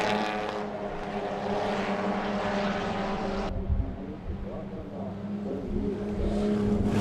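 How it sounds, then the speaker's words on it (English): Holden HQ race cars circling a club circuit in Western Australia, a steady blended roar of several engines passing close by, continuous for the whole stretch with a brief lull partway through. "Race number 2 for the Holden HQs, and what a start it was from car 68 of Peter Marsh"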